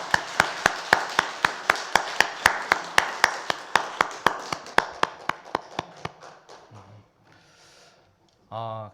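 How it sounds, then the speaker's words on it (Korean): Steady rhythmic clapping from a church congregation during a worship service, about two claps per second, fading out after six seconds, followed by a brief voice. "하나님께 영광의 박수 올려드립니다"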